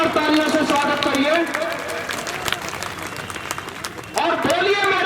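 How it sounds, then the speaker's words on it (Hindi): A large crowd at an international Buddhist conference in Prayagraj claps in welcome, a continuous wash of applause under a loud voice on a public address system. "एक बार जोरदार तालियों से स्वागत करिए"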